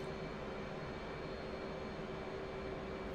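Steady, even roar of an F/A-18C Hornet's jet engines in flight in the DCS combat flight simulator, a continuous broadband drone with a faint whine, constant and unbroken, with no talk over it.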